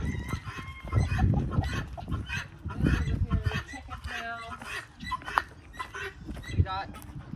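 Abyssinian blue ringneck pheasants, melanistic mutant pheasants and a pair of chickens call in a pen, with repeated clucks and honking cries mixed into a busy stretch where people are also talking.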